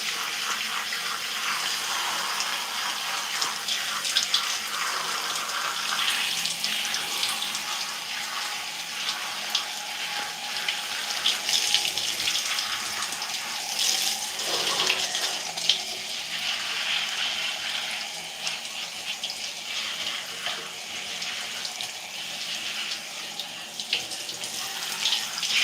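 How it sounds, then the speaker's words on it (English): Running water from a tap splashes steadily as spoolie hair rollers are rinsed under it in a sink, a continuous close hiss and patter with small shifts in flow and no talking. "Now I have to rinse them out."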